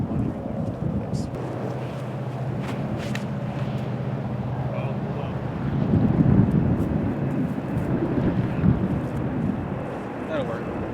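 Strong headwind buffets the microphone on a disc golf course, a continuous rumbling roar that swells louder midway, with people talking beneath it.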